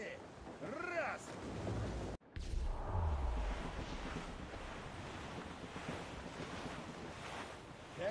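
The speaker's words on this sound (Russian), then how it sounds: "Ветер крепкий, Шей." Strong wind and crashing sea waves aboard a sailing ship in Assassin's Creed Rogue, a steady loud roar of surf and gusts filling the whole stretch, with a brief dropout early on and faint voices mixed in.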